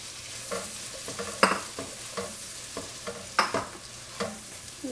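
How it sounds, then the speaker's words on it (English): Onions frying in oil and butter, a steady close sizzle with occasional soft stirring scrapes and clacks of a utensil in the pan, no talk. "Let's fry these onions for a little while until the onion gets a little softer."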